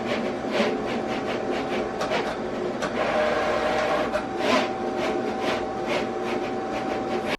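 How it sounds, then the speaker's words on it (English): A Cricut Venture cutting machine drawing runs with a steady electric whir and a rapid, irregular stream of soft ticking and clicking as the pen carriage moves back and forth, close and continuous. "I'll play it in real time here so you can see how quickly the Cricut Venture draws"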